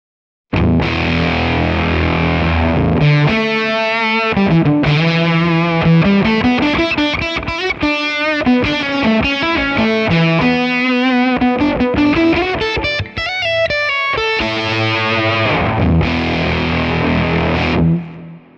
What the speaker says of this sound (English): So this is the octave lead.